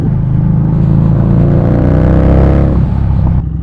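A Harley Davidson motorcycle on new Kenda KM1 tyres pulls away with a loud, close, deep rumbling exhaust that rises as it accelerates, then eases off toward the end.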